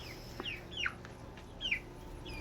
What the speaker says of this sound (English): Here is our 2 meat birds that someone gave us.